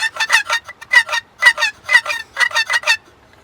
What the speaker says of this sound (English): That's a goose call.